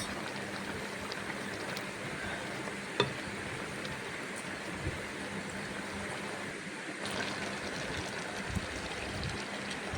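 Cashews and cumin powder fry in a wok, giving a steady soft sizzle throughout with a few faint clicks and stirring scrapes, close up and without speech.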